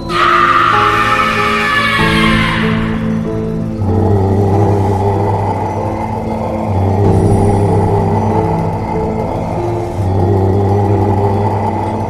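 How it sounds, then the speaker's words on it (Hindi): A cartoon car brakes to a stop, giving a loud, close rumbling engine with a skidding screech at the start, then sustained low droning that swells and settles over about twelve seconds, with no talk. "आखिरकार गुल्ली को ब्रेक मारकर गाड़ी रोकनी पड़ती है"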